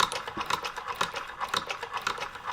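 A linking machine joins the seam of a knitted hooded scarf, giving a quick, steady run of light mechanical clicks and clatters, close and moderately loud, with no talking.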